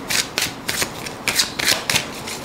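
A Cigana Carmencita fortune-telling card deck being shuffled by hand: close, crisp riffling bursts repeated in a quick steady rhythm over about two and a half seconds.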